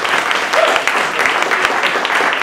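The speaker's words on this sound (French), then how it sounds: "Vous avez encore 10 secondes pour applaudir." An audience at a PechaKucha presentation event applauds, a loud, steady wash of clapping from a sizeable crowd that holds for a couple of seconds with faint voices beneath.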